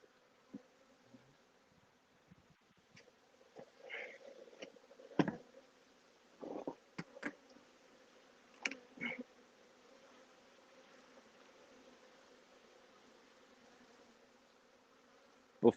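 A large swarm of honey bees, roughly 24 pounds, hums in a steady low drone close by, with scattered brief knocks and rustles over the buzzing.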